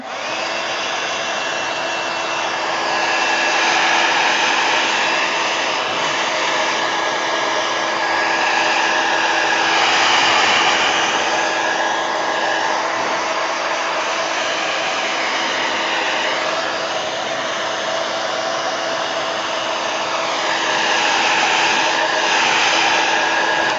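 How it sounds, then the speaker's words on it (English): A heat gun blows hot air while warping a folder for artwork in a craft session, giving a loud, steady roaring whoosh that holds for over twenty seconds at close range. "Heat gun."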